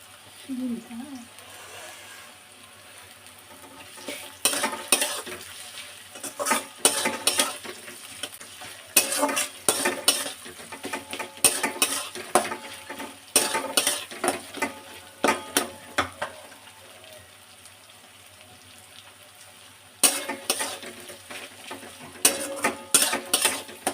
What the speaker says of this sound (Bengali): এই পেঁয়াজটা আমি ভালো করে এখন লাল করে ভেজে নেব।